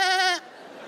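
A person on a comedy festival stage imitates a goat with a short, quavering nasal bleat, loud and close, that cuts off abruptly into quiet room tone.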